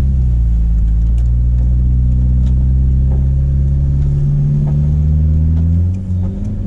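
A Volvo 940 Turbo engine rumbles loud and close while the car drifts on snow at speed, a deep steady drone with rising and falling revs.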